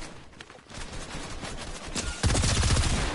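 Fortnite gunfire in a Reload squads match, with dense bursts of shots throughout that grow suddenly louder and heavier near the end, as if the shooter has drawn close.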